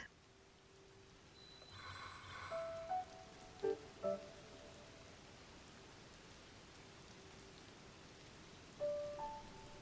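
Steady, soft rain hisses across a landscape in the video game Zelda: Tears of the Kingdom, with a few brief game chimes and tones rising above it.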